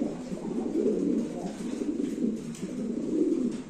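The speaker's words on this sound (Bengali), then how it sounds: "ইরানি বারহুমার কবুতরের ডাকটা দেখেন" An Iranian Barhuma pigeon coos nearby in repeated low, throaty rolling phrases, a few swells over several seconds, fairly loud against a quiet background.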